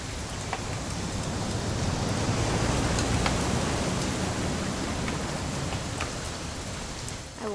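Steady rain falling in the video game What Remains of Edith Finch, a dense, even hiss that stays loud and constant throughout with scattered brighter drop ticks and no voices.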